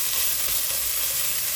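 Fermented gundruk greens being stirred and fried in a pan, giving a steady hissing sizzle up close, broken by gentle scraping and shuffling as the leaves are turned.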